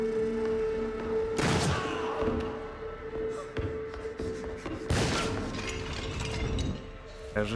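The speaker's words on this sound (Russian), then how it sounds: "Кажется, выстрел произвели с балкона." Two sharp, booming gunshot bursts, one early and one midway, ring out over a steady mechanical hum and rattling game background in Assassin's Creed III Remastered, the shot fired from a balcony.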